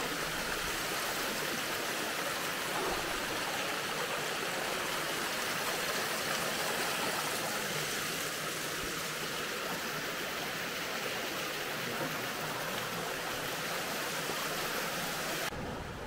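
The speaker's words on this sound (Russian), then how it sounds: "Водопад очень маленький" A small waterfall in Butterfly Valley near Ölüdeniz pours in a steady broadband rush of falling water, close and constant throughout.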